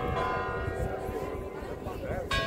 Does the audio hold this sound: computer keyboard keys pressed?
no